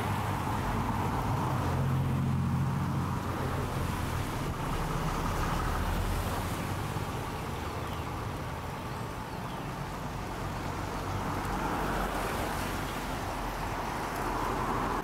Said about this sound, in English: Same bus just departing the bus garage on a trip out to Hampton.